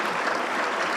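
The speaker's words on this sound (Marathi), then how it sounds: "वा वा, किती जोरात टाळ्या वाजल्या." Loud, dense applause from a seated audience at a student business talk, steady and continuous throughout with no voices over it.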